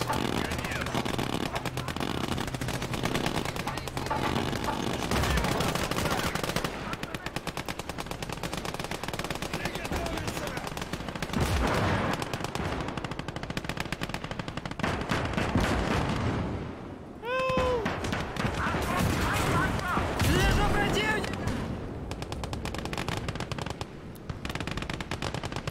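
Intense combat in a Russian hardcore campaign mission of a war video game: dense machine-gun bursts and gunfire with booming artillery strikes, loud and nearly continuous throughout, and a voice speaking briefly amid the noise.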